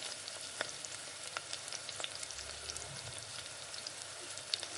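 Keema kachoris fry in oil over low flame, giving a dense continuous crackling sizzle with scattered sharp pops, close and steady with no talk.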